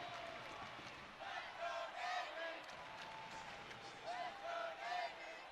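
Big crowd roaring at an Army versus Navy volleyball match, continuous cheering and shouting that surges in waves, with scattered claps and whoops rising above a dense wall of noise.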